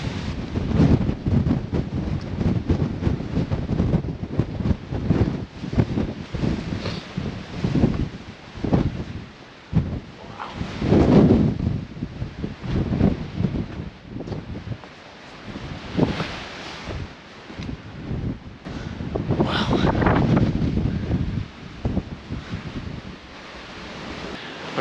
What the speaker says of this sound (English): it's actually almost scary how windy it is coming up those concrete steps